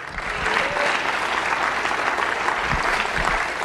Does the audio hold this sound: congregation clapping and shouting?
yes